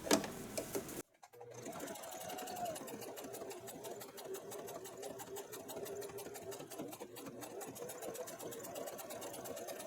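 Sewing machine stitching a bag lining runs steadily and close for most of the clip after a brief stop near the start, with a continuous mechanical whir and rapid needle rhythm.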